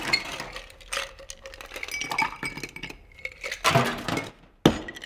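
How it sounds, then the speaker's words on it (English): Ice clinking and rattling in a cocktail shaker as a Sidecar is mixed, irregular glassy chinks and clatters building into louder bursts of shaking near the end, with no talking. "all we have to do is add the ice and shake."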